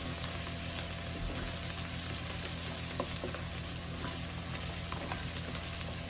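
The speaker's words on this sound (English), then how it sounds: "cook the garlic for a second" About four or five cloves of garlic sizzle gently in a pot over lowered heat while making a chicken and Swiss casserole, a steady, fairly quiet frying hiss with occasional soft stirring ticks.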